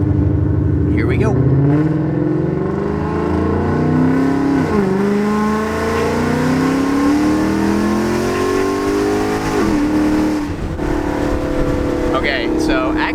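A car with traction control switched off and billet aluminum vertical links in its rear suspension accelerates hard, engine revs climbing in a loud sustained pull, dropping sharply through a 2-3 gear shift and climbing again, with a voice talking over the engine.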